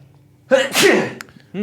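A single sharp sneeze, close and loud, with a quick breath before it.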